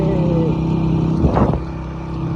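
Motorcycle riding on a road during a long-distance trip from Multan toward Kashmir, with a steady engine drone throughout and a brief louder swell of passing traffic in the middle.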